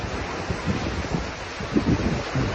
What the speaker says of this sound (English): Just the sound of the waves crashing from the explosion.